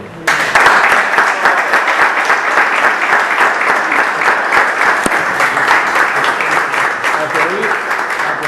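Sustained audience applause at the end of a book presentation in Murcia, loud and dense, many hands clapping continuously for several seconds.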